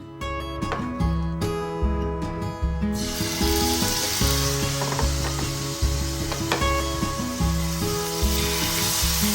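Chicken fry sizzles steadily in a pan in a home kitchen, a constant crackling hiss over looping background music with no voices.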